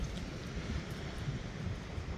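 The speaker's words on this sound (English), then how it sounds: "It's very windy today" Strong wind gusts across a beach after recent storms, a steady broadband roar of wind buffeting the microphone with a faint wash like surf beneath, no voices.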